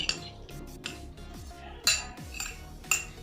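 Pakoda batter is mixed in a large metal pot, with a spoon scraping and clinking against the sides in quick irregular strokes and a few sharper knocks, close and fairly quiet.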